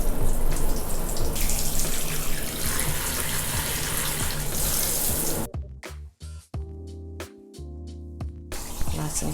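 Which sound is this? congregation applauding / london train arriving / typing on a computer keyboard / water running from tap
water running from tap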